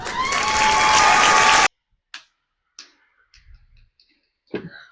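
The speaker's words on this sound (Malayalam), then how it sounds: "കൈയടി" Loud, steady burst of clapping fills the first second and a half, then cuts off abruptly, leaving a few scattered faint clicks and small noises.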